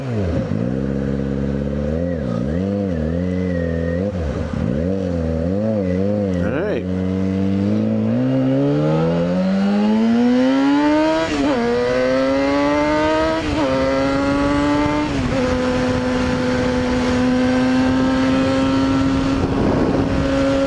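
A Yamaha FZ6R motorcycle engine runs at low RPM while commuting, a steady loud drone whose pitch wavers, then climbs and settles as the bike pulls along, with a voice talking over it.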